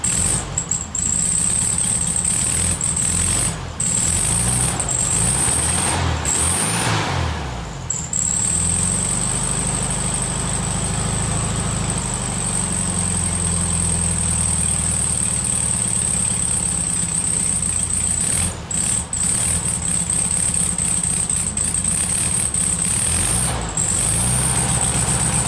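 A VW Beetle's SSP TwinPort engine idles roughly and unevenly, a loud, close rumble with a persistent high squeal over it and brief dips as it struggles to keep running.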